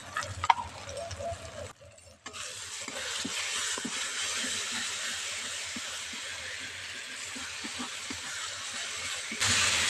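Ginger-garlic paste sizzles as it fries with softened tomato and onion for chana paneer, a steady broadband hiss with faint clicks and stirring taps. The hiss runs unbroken after a short pause near the start.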